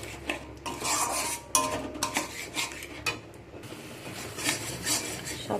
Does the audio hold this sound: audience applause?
no